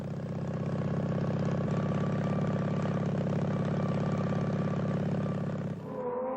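A twin-cylinder BMW R32 motorcycle engine runs at a steady, loud, droning idle with an even pulse for several seconds, then cuts out and leaves a brief fading tone.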